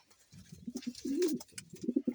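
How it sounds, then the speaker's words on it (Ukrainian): Pigeons cooing nearby, a few soft throaty coos in a low rolling rhythm, fairly quiet with short gaps between calls. "Голуби."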